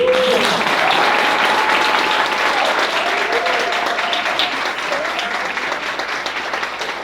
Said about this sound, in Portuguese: eu queria que a gente aplaudisse, porque é muito trabalho